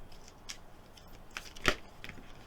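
Oracle cards being shuffled by hand, a few soft papery riffles and slaps with one sharper flick near the end, close and fairly quiet, no talking.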